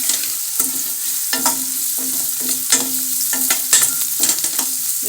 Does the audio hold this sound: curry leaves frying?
yes